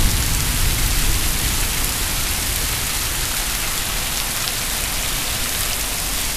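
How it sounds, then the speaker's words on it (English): Cold rain falls steadily on a rainy afternoon, a dense, even hiss of drops spattering on surfaces, close and continuous throughout with no voices. "that's really cold rain though"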